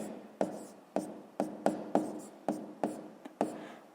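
Handwriting on paper while working a sixth-grade math exercise: a series of about eight short scratchy strokes, each starting sharply and trailing off, spaced roughly half a second apart, close and clear with no talking.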